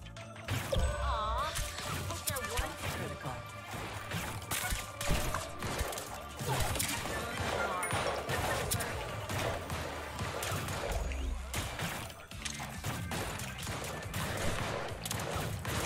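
Video game gunfire, loud rapid shots and impact cracks repeating in quick irregular bursts over a busy, chaotic mix of effects throughout.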